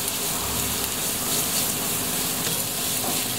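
Onions sautéing in a pan for Filipino chicken sinigang, a steady, loud, close hiss and crackle of frying that continues without pause.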